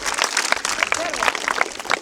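Students at a Shivaji Jayanti quiz give a short burst of clapping, dense and steady throughout, mixed with some scattered voices.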